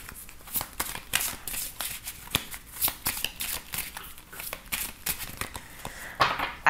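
Oracle cards being shuffled and cut by hand, a steady run of close, crisp riffling and flicking bursts with short slaps, continuing without pause and with no talk over it.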